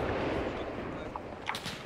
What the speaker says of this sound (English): Okay, BMP engaging us.